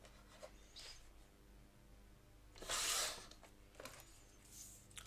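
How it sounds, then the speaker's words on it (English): A paper trimmer slicing a strip of patterned paper for a mixed-media scrapbook layout, one short rasping cut in the middle between faint scraping and rubbing handling noises, quiet and close. "Just going to trim a tiny bit more off that."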